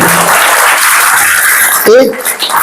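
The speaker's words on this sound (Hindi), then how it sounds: "बहुत बढ़िया, ताली बजाओ एक बार" Participants at a summer camp in Kaman clap together. The loud, dense burst of clapping is mixed with voices, then gives way to close, clear talking.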